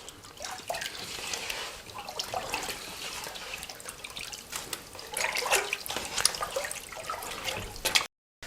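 Water running and splashing in a kitchen sink during home beer brewing with a Best Case kit, a close, continuous watery wash with scattered drips that cuts off abruptly at the end.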